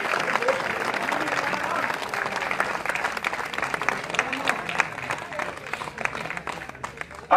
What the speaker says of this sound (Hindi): जोरदार ताली बजा के कन्हैया यादव जी का स्वागत करिए।